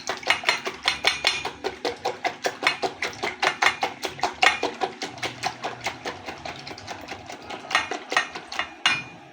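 Milk being whisked vigorously in a bowl for microwave leche asada, a fast steady clatter of whisk strikes against the bowl repeating several times per second, close and continuous for the whole stretch.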